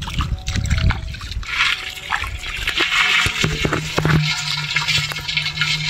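Water splashing and gushing at a village lake during crab and snail catching, a steady rushing pour with trickles and splatters over nearly six seconds, fairly close and loud, with some background voices.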